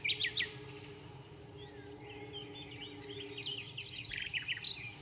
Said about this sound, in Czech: To je Slavík. To je taky Slavík tamhle vzadu.